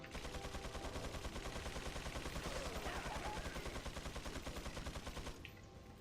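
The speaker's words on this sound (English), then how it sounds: "There's our favorite machine gun wielding enemy, JJ." Rapid automatic machine gun fire from an enemy in Resident Evil 4, a sustained, evenly pulsing stream of shots that runs loud and continuous for about five seconds, then drops away.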